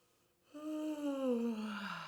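A single voiced yawn, rising in and then gliding slowly downward in pitch, fairly close and soft, with no other sounds around it.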